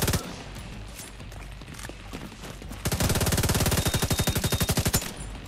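A light machine gun firing in the shooter game The Division 2, a rapid evenly spaced stream of loud close shots that kicks in midway and keeps going, with scattered gunfire and game noise before it.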